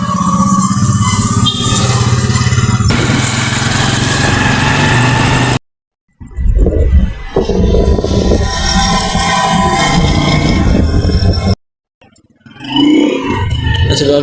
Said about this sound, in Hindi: यहाँ से मोटरसाइकिल निकालते हैं और चलते हैं